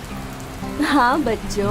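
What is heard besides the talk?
rain falling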